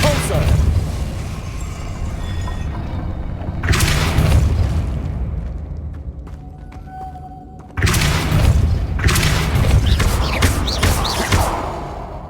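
Depulso spell casts in the game Hogwarts Legacy, booming blasts landing in separate bursts with a thud and crackling debris, loud and close, each followed by a fading tail.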